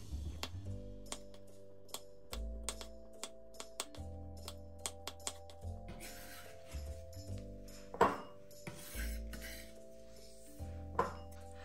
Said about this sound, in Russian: Орешки слегка обжарила, а теперь порублю